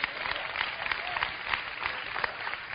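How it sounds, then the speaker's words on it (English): Listeners at a gospel sermon give a steady, moderately quiet round of applause that continues evenly through the clip, with no voices on top. "You should clap right there."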